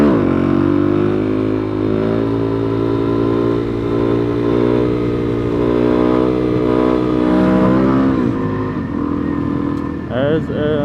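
A Suzuki DRZ400SM motorcycle pulls hard in third gear, its engine note droning loud and steady with rising harmonics before easing off near the end, heard close from the rider's position.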